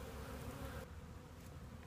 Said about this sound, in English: And so I'm just gonna put those bees into here.